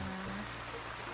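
Steady rain falling outside a hut beside a stream, a soft continuous wash of water, close and even, with no voices.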